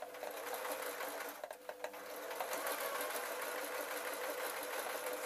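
A sewing machine hems a pillowcase being made into a baby outfit, running steadily close up with a continuous motor whir and rapid needle chatter and only a brief slowdown.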